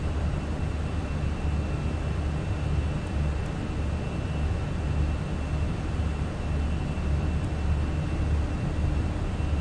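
Airplane engine noise from a flight simulator as the aircraft climbs, a loud, steady broadband roar with no breaks and no speech.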